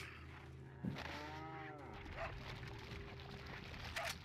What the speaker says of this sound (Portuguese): Será que é aquele mesmo dog lá que machucou a perna?